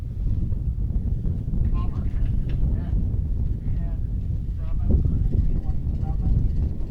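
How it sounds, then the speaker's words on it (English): Gusty wind buffets the microphone at an outdoor archery range during a recurve men's gold final, a low rumbling roar that swells and eases without pause. "this wind is crazy because it's going from one way to the other"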